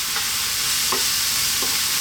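Curry powder hits frying rice in a hot pan and is stirred through, giving a steady close sizzle with a few brief scraping stirs on top, no voices.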